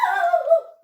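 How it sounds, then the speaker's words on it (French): A dog indoors lets out a sudden whining bark that slides downward over under a second, close and fairly loud, with no talking over it. "c'est le chien. Il réagit d'un coup d'un seul."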